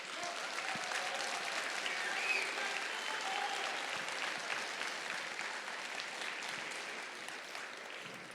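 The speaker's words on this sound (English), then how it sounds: "Students, can you give your mentors a round of applause?" An audience at a FIRST robotics district event opening ceremony applauds its mentors, a broad, steady round of clapping and crowd noise lasting several seconds with no speech on top.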